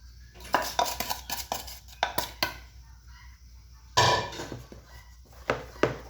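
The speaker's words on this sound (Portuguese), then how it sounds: "Vou pegar a colher de pau para vocês conseguirem ver a consistência." Wooden spoon stirring thin cornmeal cake batter in a pot, heard as a series of close clinks and scrapes against the pot sides, with bursts of sharper knocks and quiet gaps between them.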